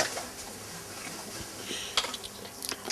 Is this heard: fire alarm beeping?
no